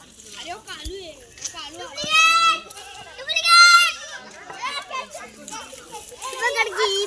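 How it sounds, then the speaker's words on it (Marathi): Goats bleat in loud wavering cries near a forest campsite while children chatter and play close by, the bleats rising twice over the steady hum of young voices. "ही शेळी एक आहे आणि ही इथं एक शेळी आहे"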